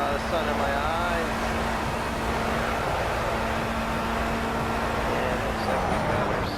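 Formula race car engine in the Project Cars racing game on PS4, a steady, continuous drone with a sustained tone and faint shifting pitch, held at an even level throughout.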